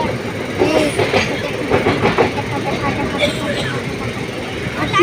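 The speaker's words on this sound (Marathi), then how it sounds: "आपली ट्रेन आणि मालगाडी मस्त मालगाडी आपल्याला क्रॉस केलं आहे." A freight train passes alongside a moving passenger train, its rumble and clattering wheels loud and close, with rhythmic clacks and a steady roar throughout, and faint voices underneath.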